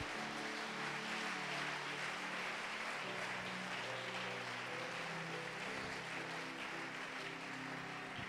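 Church congregation applauding steadily for several seconds, a dense wash of clapping with faint organ or music tones underneath, no voices over it.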